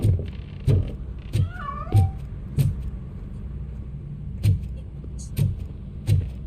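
A cat meowing in the video game RoboCop: Rogue City, a few short rising and falling mews over a low motor hum, with sharp recurring clicks or thumps spaced through the scene.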